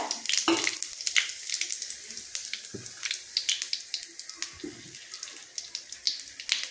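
Whole spices temper in hot oil in a wok for a mutton curry, crackling and popping in irregular bursts over a thin background hiss.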